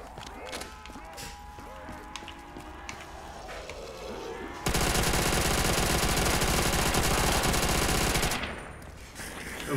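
MG42 machine gun in Call of Duty Black Ops 3 zombies, a loud sustained burst of rapid automatic fire for several seconds in the middle, preceded and followed by scattered game sounds.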